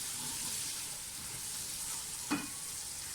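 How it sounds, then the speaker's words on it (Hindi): Spices sizzle and fry in a pan for an aloo matar pulao, a steady hissing crackle throughout with a brief stirring scrape partway through, close and moderately loud with no talking. "मसाले को भून लें।"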